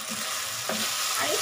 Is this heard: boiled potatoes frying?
yes